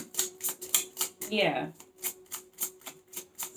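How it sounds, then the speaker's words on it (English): Tarot cards are shuffled in rapid, evenly spaced riffling bursts, close and crisp, with a brief spoken word partway through. "Because I'm shuffling the cards."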